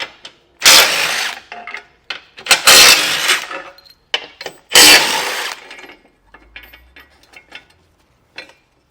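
Socket ratchet removing bolts from the front bumper of a 2018 Jeep Cherokee, heard as three loud, close bursts of rapid clicking separated by short pauses, followed by quieter scattered metallic taps and handling.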